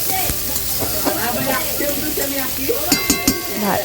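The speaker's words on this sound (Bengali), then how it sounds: "পেঁয়াজগুলোকে একটু লাল লাল করে ভেজে নেব" Onions fry in a pan until reddish, giving a close, continuous sizzle broken by scraping stirs and a few clinks of a spoon against the metal. A tomato is in the pan as well. No voice is heard over the cooking.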